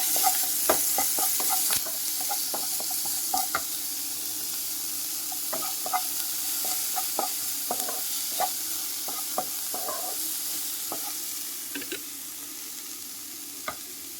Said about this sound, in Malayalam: ചൂടായി വരുമ്പം നമുക്ക് ക്യാപ്സിക്കം ഇട്ട് കൊടുത്ത് നന്നായിട്ട് നമുക്ക് വഴറ്റിയെടുക്കാം.